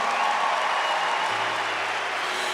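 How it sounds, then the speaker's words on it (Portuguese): An audience at a Catholic Canção Nova community gathering applauds with steady, dense clapping that fills the whole stretch and fades slightly toward the end. "Vamos aplaudir esta obra de Deus."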